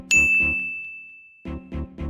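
A single bright phone notification ding rings out and slowly fades, set between short rhythmic thumping beats that drop out and then return.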